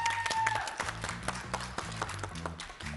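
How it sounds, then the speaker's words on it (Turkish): Studio audience applauding at a Uzbek team game show, a contest between the Lady and Yulduz teams, a steady patter of clapping with loud music running underneath. "Alkışlar."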